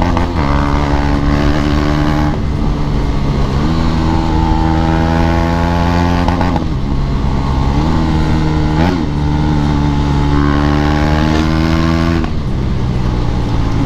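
Loud, close roar of a KTM Duke 250 motorcycle engine with its exhaust removed, rising and falling through several revs in a continuous harsh drone.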